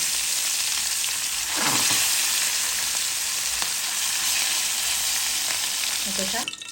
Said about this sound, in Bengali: তেল দিয়ে দিলাম মাছ ভাজার জন্য